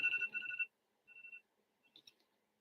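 A phone alarm tone beeps in short bursts: one longer ring, a pause, a briefer ring, then a faint chirp, with no talking.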